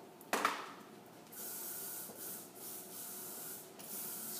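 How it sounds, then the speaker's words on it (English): A short knock, then repeated hissing bursts of hairspray with brief gaps between them, close and fairly loud, no voices. "Spray all the way around."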